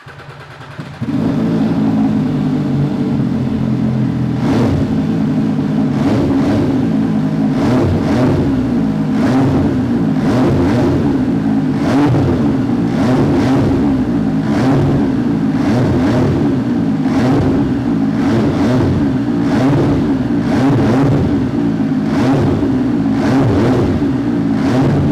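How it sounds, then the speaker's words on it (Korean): A 2021 MV Agusta Superveloce motorcycle's three-cylinder engine idles with a tuned muffler, a deep steady burble with periodic throttle blips, loud and close throughout. "이 차량 이 튜닝 머플러의 배기 사운드 한번 들어보고요."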